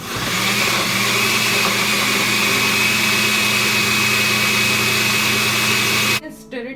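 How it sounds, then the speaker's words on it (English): A blender whirs loudly and steadily at high speed through a kulfi mix of condensed milk, milk powder and bread slices, then switches off near the end, leaving brief handling noises. "Okay, we will blend it now."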